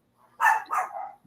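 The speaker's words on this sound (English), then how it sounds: "the dogs are going crazy" Dogs bark in two or three quick, fairly close barks, the first loudest, followed by a shorter yelping tail against a quiet background.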